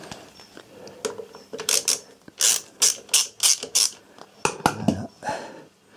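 A small 17 mm ratchet wrench tightens a nut on a Yamaha Virago 1100 motorcycle alternator. It gives close, sharp bursts of rapid clicking in quick strokes, then a short pause and a few more clicks.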